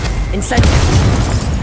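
A burst from the Incendio fire spell in Hogwarts Legacy on PS5, a loud booming whoosh that swells and then rumbles on steadily under dense game sound and a shouted voice.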